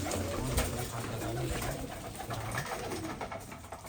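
Pigeons coo in low, repeated throaty phrases close by, a few overlapping calls in a steady rhythm, with some faint rustling behind them.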